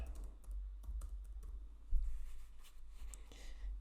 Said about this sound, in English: you're going to type in vision board